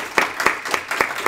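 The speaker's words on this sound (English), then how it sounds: "Please give them a warm round of applause" A handful of sharp, evenly spaced claps sound for the sponsors at a Scala programming meetup, close and fairly sparse, as if from a small group.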